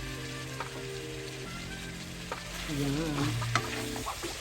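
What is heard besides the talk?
carrots and potato frying in a pan for menudo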